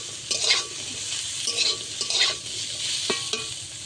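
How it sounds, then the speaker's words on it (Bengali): Bitter gourd and potatoes frying together in a hot pan, with a steady sizzle broken by several scraping stirs of a spatula, close and fairly loud, with no talking. "আর উচ্ছে আলু সব কিছু একসঙ্গে আবারও ভেজে নেব।"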